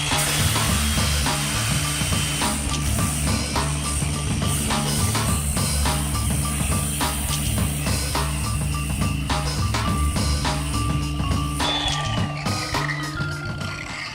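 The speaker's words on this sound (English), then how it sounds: "I'm just using 80 grit there to get the rough part down." Hardened fiberglass resin being sanded with 80 grit sandpaper, giving a continuous gritty scraping and rasping that runs steadily throughout, close and moderately loud, with no talk.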